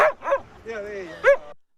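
A rambunctious shelter dog barks and yips close by in several sharp bursts, with whiny, drawn-out tones between the barks.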